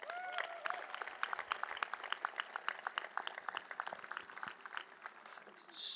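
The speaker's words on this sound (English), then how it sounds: "Can we give them a round of applause?" Scattered applause from the audience at a university induction ceremony for incoming students, with sparse individual claps over a quiet hall and a voice rising faintly within it.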